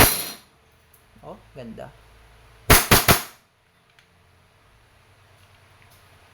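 A WE airsoft 1911 Type B gas pistol fires three quick, sharp cracks close by, with metallic slide clacks; someone speaks briefly before the shots.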